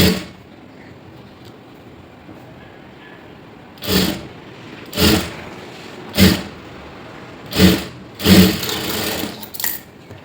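A sewing machine stitches a blouse sleeve in short, loud, close bursts, five or six runs of rapid needle clatter separated by quiet pauses.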